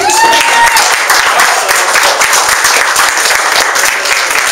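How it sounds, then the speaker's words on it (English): A room full of guests at a holiday networking event applauds with dense, loud clapping that stays steady for the whole stretch, with a few voices mixed in. "So let's give Elias one more hand clap"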